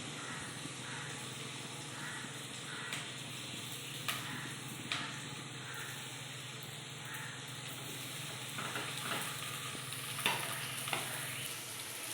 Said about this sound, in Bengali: দেখো দেখো এইভাবে আমি আর যেগুলি রয়েছে এগুলিকেও ভেজে নেব